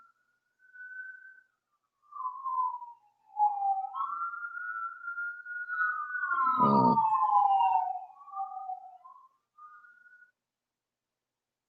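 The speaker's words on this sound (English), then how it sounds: "Those sirens." A faint emergency siren wails in the distance, its tone rising and falling over several seconds, with a brief low voice partway through.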